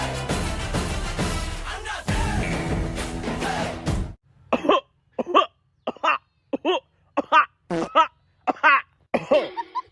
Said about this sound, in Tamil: இருமல் டாக்டர்.